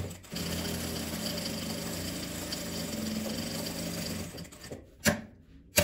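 A sewing machine stitches a fabric kitchen apron, running in a steady continuous whir for several seconds, then stopping with a couple of short clicks, heard close and alone without talk.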